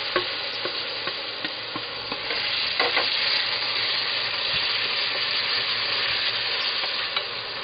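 Chopped tomatoes fry with browned onions in a pan, producing a continuous close sizzle broken by a few scraping stirs, with no voices.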